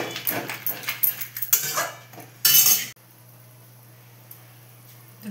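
A spoon stirs aloo posto with green chillies in a pan, giving a few clinking, scraping strokes up front, then a louder burst of stirring before the sound drops to a quiet background hum.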